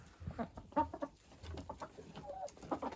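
Farmyard hens, including a naked-neck hen, cluck in short, close, scattered bursts on a frosty day, with no talk over them.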